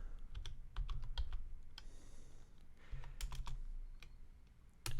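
Steady typing on a computer keyboard while entering text in a design program, a quick irregular run of soft clicky keystrokes up close, with a brief pause in the middle and no voices.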